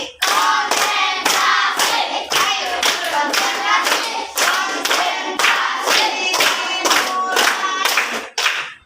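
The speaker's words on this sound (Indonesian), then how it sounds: "Kalau ibu bilang tepuk konsentrasi." Children in a classroom perform a rhythmic concentration clapping routine, sharp group claps in quick patterned bursts with brief pauses between, loud and close, ending abruptly.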